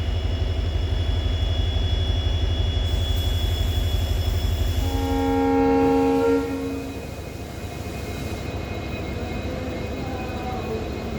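Fast Mangaluru–Bengaluru train departs Subramanya Road station with a steady, loud rolling rumble. Its horn sounds for a couple of seconds midway, and the rumble continues after it stops.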